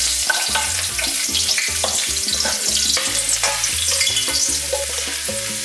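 Three lightly crushed garlic cloves frying in smoking-hot oil for Cuban fried rice, a loud, dense, continuous sizzle with a constant crackling hiss, close up and with no talking.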